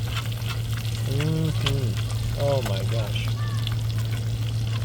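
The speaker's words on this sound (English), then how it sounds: "Hot enough to sizzle and bubble." Surf perch frying in a pan over a wood fire, a steady close sizzle and bubble running throughout under a voice speaking briefly.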